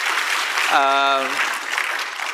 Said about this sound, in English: I think Prime Minister deserves an applause for that.